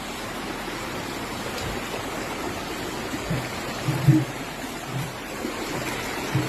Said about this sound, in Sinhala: ඒක තමයි උමග අස්සෙන් වතුර එන්නේ